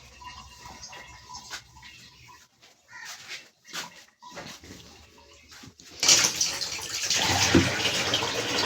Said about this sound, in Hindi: अब मैं बर्तन मांज रही हूँ।